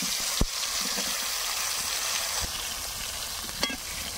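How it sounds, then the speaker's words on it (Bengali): Eggplant pieces coated in salt and turmeric fry in oil that was used for frying lentil dumplings, giving a steady, loud sizzle with occasional sharp clinks of stirring. "বড়ি ভাজার তেলে বেগুনগুলোকে ভেজে নেব"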